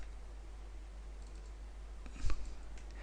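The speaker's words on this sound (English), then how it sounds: "Click on an update button, which is just off screen" One quiet computer mouse click sounds near the end, set against a low, steady electrical hum with nothing else happening.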